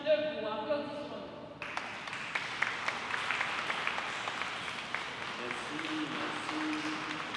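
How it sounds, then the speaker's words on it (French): A standing ovation breaks out at a Haitian Canadian charismatic congress to welcome a bishop. A voice comes first, then thick applause rises and holds, broad and steady, to the end. "avec une ovation debout. Applaudissons-nous."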